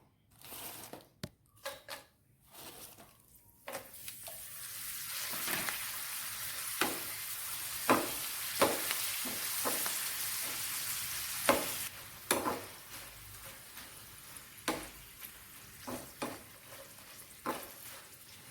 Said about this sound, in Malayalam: നമുക്ക് കുറേശ്ശെ കട്ട് ചെയ്ത് ഈ പപ്പടം ഇട്ട് കൊടുക്കാം.